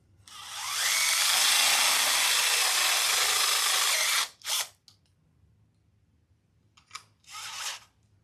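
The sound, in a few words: power drill drilling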